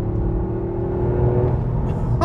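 A 2022 Toyota GR Yaris engine revving hard while climbing a hill, a loud, sustained droning roar heard from the cabin with a slight rise in pitch.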